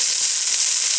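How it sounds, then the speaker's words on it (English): Meatballs fry in a pan during their final flip, giving a steady, close, bright sizzle and hiss with faint pops and no voices. "sorry about the sizzle"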